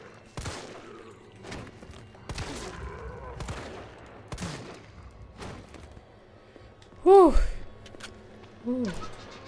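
Gunfire in a video game, with sharp separate shots spaced irregularly over several seconds, plus a few louder bursts near the end, heard under excited voices calling out.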